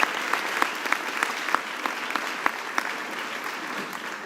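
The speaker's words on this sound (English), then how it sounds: "Let's please give our artists another round of applause." Sustained applause from a university graduation ceremony audience, a dense even roar of many hands clapping, with a few sharper claps standing out near the front.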